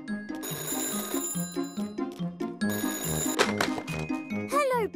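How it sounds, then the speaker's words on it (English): An old-style telephone rings with a bright trilling bell in a Peppa Pig cartoon, heard over bouncy background music and ending with a short rising whistle-like sound. "phone is ringing. I wonder who is calling."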